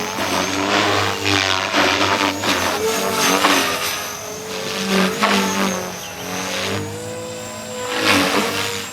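A Blade Fusion 360 RC helicopter on 6s power flies with a high head speed, producing a loud, sustained high-pitched whine. The pitch rises and falls in repeated swells as the helicopter maneuvers nearby.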